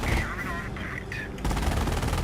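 Rapid bursts of machine-gun fire from the World War II strategy game Company of Heroes during a battle against the computer, dense and continuous, with someone talking over the first half.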